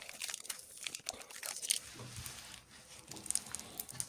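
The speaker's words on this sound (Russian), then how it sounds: "Теперь сам клинок оборачиваю бумагой и заматываю его скотчем" Paper crinkling and crumpling with brief tearing sounds as a cut-down old saw blade is wrapped in paper and taped, close and moderately quiet, irregular rustles throughout.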